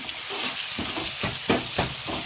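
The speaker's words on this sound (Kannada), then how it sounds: "ಆನಿಯನ್ನು ಸ್ವಲ್ಪ ಚೆನ್ನಾಗಿ ಫ್ರೈ ಆಗಬೇಕು" Onions fry in a pan for drumstick sambar with a continuous close sizzle, broken by a few soft scraping stirs; no one speaks.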